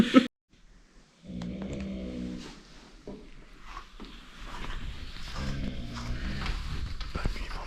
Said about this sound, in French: notre voisin qui a commencé à ronfler très très fort